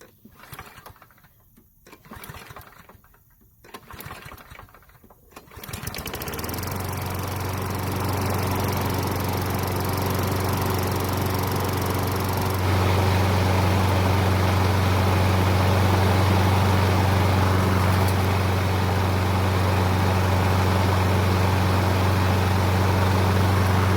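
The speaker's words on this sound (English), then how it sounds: "we'll then try testing out the self-propel again" A Craftsman self-propelled lawn mower with broken drive teeth on one side starts after a few rough pulls and then runs at a steady, loud, droning idle, close by, growing slightly stronger partway through.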